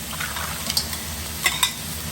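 Squid, prawns and hake stir-fry in a pan with vegetables and water, giving a steady close sizzle with a few light clicks and scrapes of stirring, and no voices.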